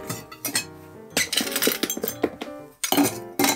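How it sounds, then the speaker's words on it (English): Ice cubes dropped into a metal cocktail shaker while mixing a Pisco Punch, several sharp clinks and rattles in quick irregular bursts, close and fairly quiet, with no speech. "Now we're gonna drop ice."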